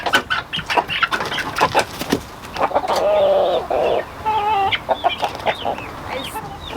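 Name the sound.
young roosters and chickens clucking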